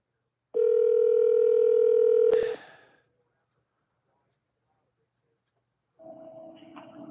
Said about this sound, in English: Calling Sweetie PD's mobile.